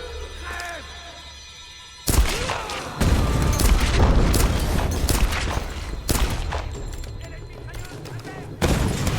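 Machine gun fire and booming blasts in the 2014 Tomb Raider video game, heavy rapid bursts loud and close, with a player talking over the action.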